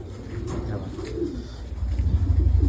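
A pigeon sitting on its eggs gives soft, low cooing close by, growing into a rhythmic, throbbing coo toward the end over faint background noise.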